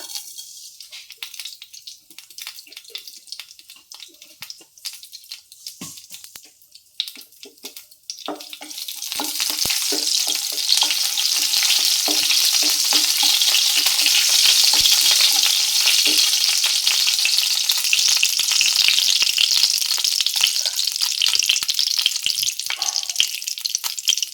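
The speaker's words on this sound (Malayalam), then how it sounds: "ഉലുവയിട്ട് പൊട്ടുമ്പോൾ 2 കടുക് ഇട്ട് കൊടുക്കുക" Fenugreek seeds crackle with scattered sharp pops in hot oil for lemon pickle, then mustard seeds drop in and a loud, dense, steady sizzle takes over close by.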